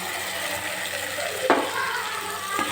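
Cashew paste is stirred into meal maker curry in a pan, giving a steady frying sizzle with a spoon scrape or two, close and moderately loud, without talk.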